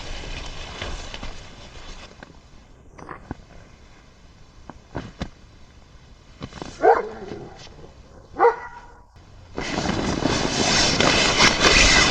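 A dog barks in a forest at night, two sharp, fairly loud barks standing out against a steady background drone that swells into a louder rushing noise near the end.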